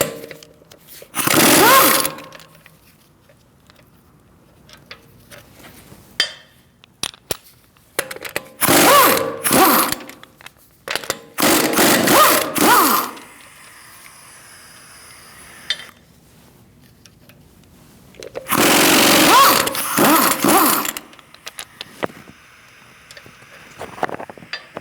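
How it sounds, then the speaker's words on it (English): A tool with a 17mm socket loosens the front wheel bolts on a 2008-2014 Mercedes-Benz C300, sounding as four loud, harsh bursts of a couple of seconds each, separated by near silence and faint clinks. "17mm socket, we're going to remove our wheel."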